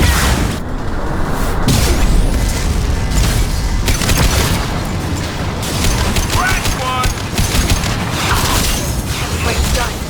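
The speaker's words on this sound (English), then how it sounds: "Watch out, flashbang!" In Mass Effect 2 combat, a flashbang grenade goes off amid loud booms, rattling gunfire and whooshes, dense and continuous battle noise with voices talking over it.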